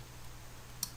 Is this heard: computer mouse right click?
yes